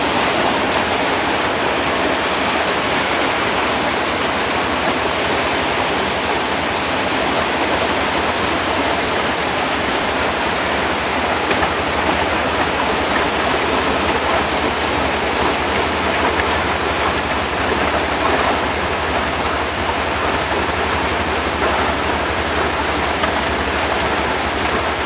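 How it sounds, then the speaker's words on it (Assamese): Heavy rain falls in a steady, dense hiss that stays constant and fairly loud throughout, with no voices heard. "ইয়াত বৰষুণ দি আছে বৰ্তমানৰ কাৰণে"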